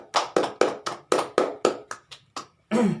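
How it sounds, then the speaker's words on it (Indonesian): Group of elderly participants clapping together in a slow, even rhythm of about ten claps, close and fairly quiet, followed by a brief burst of voices. "Iya, tepuk dulu semua."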